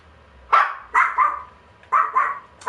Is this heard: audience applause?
no